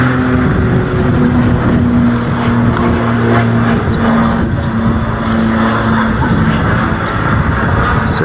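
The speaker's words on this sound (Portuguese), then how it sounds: "Outro avião, outro motor roncando aqui atrás de mim." A nearby airplane engine roars steadily at an airfield where a Grand Caravan is landing and taking off, a loud continuous drone with a constant low hum throughout.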